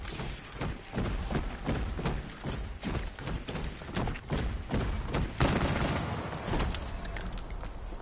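Rapid gunfire in the zombies game Shadows of Evil: a fast, continuous stream of sharp, loud shots, close and punchy, with some brief pauses and overlapping impacts.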